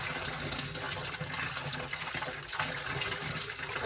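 Water gushing out of a pipe as it is unscrewed during a plumbing repair, a steady, loud, close splashing rush that continues without a break.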